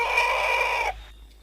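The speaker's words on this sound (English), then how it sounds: "A possessed chicken? What is it doing?" A chicken gives one loud, close, sustained squawking cluck lasting under a second, then cuts off into quiet outdoor background at a village at night.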